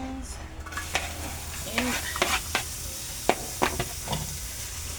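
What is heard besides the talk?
onions sizzling in oil in a pan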